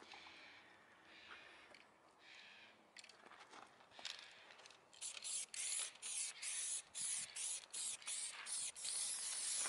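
Spray gun laying a coat of primer on car bodywork during a mobile dent repair hisses in a run of short bursts that grow louder and more regular, the trigger pulled repeatedly up close.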